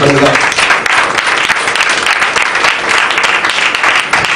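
A church congregation claps loudly and steadily together during a worship service, the applause thick and sustained, with a voice briefly heard at the very start.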